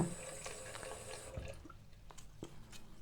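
Water trickles and splashes faintly from a tap while being added to a face mask powder, with a few small drips and clinks over soft background hum.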